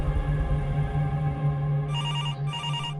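A telephone bell starts ringing in two short electronic bursts over a steady low hum.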